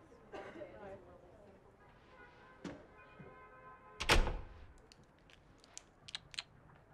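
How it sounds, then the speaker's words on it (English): A door closes with a single loud, close thunk midway through, surrounded by quieter rustling and a few light taps. "Close the door."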